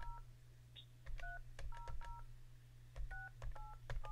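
Touch-tone keypad beeps from a phone being dialed, a rapid irregular run of short dual-tone presses in two bursts over a steady low hum, with no talking.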